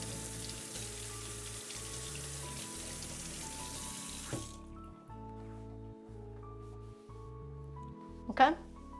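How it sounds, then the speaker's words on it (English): Running tap water rinses a carbon steel knife at a kitchen sink, a steady close stream broken by brief splashes and drips, then cutting off midway, followed by a few soft clatters and a louder knock near the end. "I'm gonna wash off this knife because it's a carbon steel knife"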